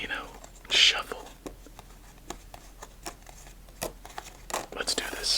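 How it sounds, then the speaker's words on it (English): Playing cards casino-shuffled on a table for a round of solitaire with a cherry blossom deck: soft riffles, pats and scattered shuffling strokes, close and gentle, quiet throughout. "Let's get our second game started with a nice casino shuffle."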